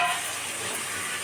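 Steam hisses steadily and evenly as the lid is lifted off a pot of kanakatha fish curry, a short, close, constant rush.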